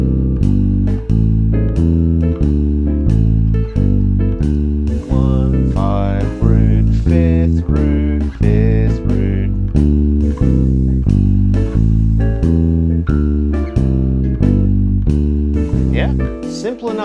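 Walking bass line on bass guitar, two chords per bar, played over a backing track with drums; steady, evenly spaced bass notes pulse throughout, loud and up front with no talking.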